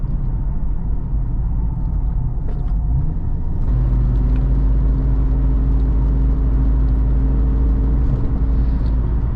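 A 1997 Jeep XJ Cherokee with a 4-speed automatic transmission drives along, giving a steady low engine rumble and road whir from inside the cabin, with a smooth shift and no talking.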